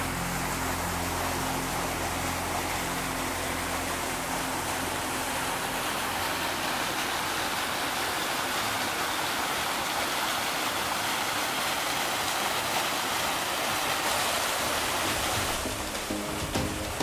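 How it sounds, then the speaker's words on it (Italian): The Rieti falls on the Conca stream roar steadily, a loud, broad, unbroken rush of falling water close by. "Eccoci giunti alle cascate di Rieti."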